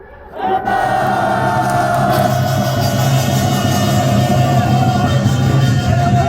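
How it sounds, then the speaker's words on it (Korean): Residents of Chungju's Judeok, Sinni and Daesowon areas roar together in a loud, sustained protest cheer against an LNG power plant and transmission towers. The massed yell erupts after a brief quiet and holds steady for several seconds. "함성을 한번 보내보도록 하겠습니다"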